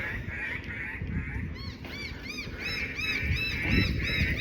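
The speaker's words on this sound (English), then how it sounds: "See if I can get some video of this bird dive bombing me." Outdoor spring bird repeatedly calling with harsh, honking cries as it dive-bombs a person, a steady string of chirping calls over wind and rustling, fairly faint and without talk.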